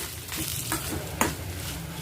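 Steady crackling sizzle of dry red chillies with coriander seeds and cumin frying in a hot pan, with a couple of sharp scraping stirs.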